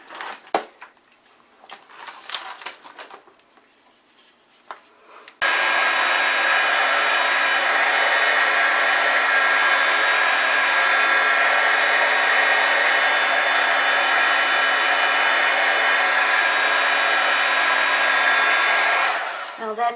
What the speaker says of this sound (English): Next thing we'll do is we'll heat set it.